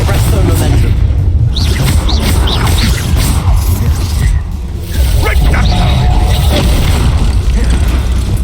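Fiery Confringo blast spell explosions in the video game Hogwarts Legacy, loud booming bursts amid dense continuous combat noise and effects, with a voice speaking over the action.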